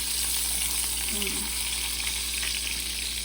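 A taco shell fries and puffs in hot oil in a pan, making a steady, close bubbling sizzle that stays even throughout.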